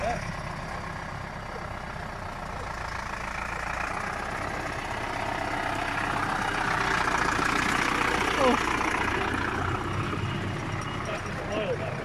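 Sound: Zetor tractor engine running after gearbox repair

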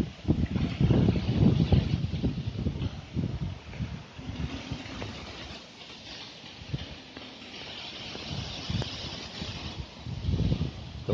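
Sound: wind

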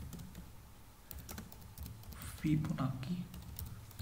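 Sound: typing code on a computer keyboard

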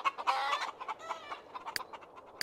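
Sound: chickens clucking at a chicken coop in The Sims 3 video game

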